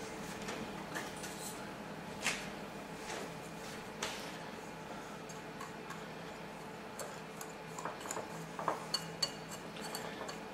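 A spoon stirs cinnamon into peach cobbler ingredients in a bowl, making faint, irregular light ticks and clinks against the dish, with no talk over it.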